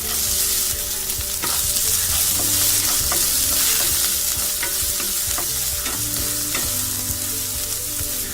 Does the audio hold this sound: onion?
yes